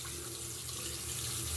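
Water from a bathroom sink tap runs steadily while a razor is rinsed after shaving, a continuous close splashing hiss with no talk.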